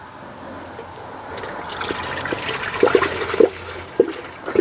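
Coolant is poured into the radiator of a 1965 Chevrolet C10 pickup, pouring liquid hissing steadily, then louder gurgles and glugs bursting out near its end.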